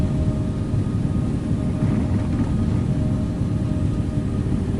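An airliner's engines roar at takeoff power during the takeoff roll in the Infinite Flight simulator game, a steady, loud, broadband rumble with no break.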